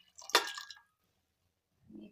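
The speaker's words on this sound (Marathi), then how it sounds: "तर याच्यात टाकूया पाणी" Water poured from a tumbler into a cooking pot for pulao, one short splashing gush lasting about half a second, then quiet with a faint low sound near the end.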